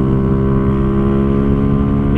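A motorcycle engine drones steadily and loudly throughout while riding at about 120 km/h in fourth gear, a continuous mechanical hum with no break or clear rise in revs.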